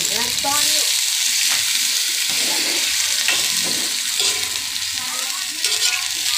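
Chicken adobo sizzles and fries steadily in a pan while a utensil stirs and scrapes through it, a loud continuous crackle with no talking.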